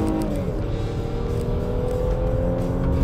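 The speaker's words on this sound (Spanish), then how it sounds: "Lo pongo en Drive, verifico que esté en modo Sport. Acelero a fondo, 1800." Nissan Pathfinder SUV in Sport mode under full-throttle acceleration, a loud steady engine drone with rising harmonics and road roar throughout, no speech.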